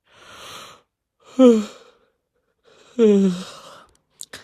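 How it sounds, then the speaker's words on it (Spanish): A man yawns repeatedly, with two drawn-out vocal yawns and breathy exhales between them, close and alone with no talk. "de antemano pido disculpas si bostezo mucho"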